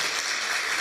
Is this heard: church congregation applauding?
yes